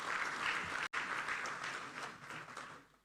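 Applause from a conference audience for two speakers at an African inter-parliamentary conference, a dense, fairly distant wash of clapping with a brief dropout, then tapering off toward the end.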